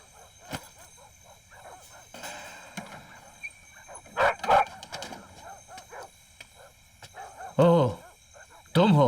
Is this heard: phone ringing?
no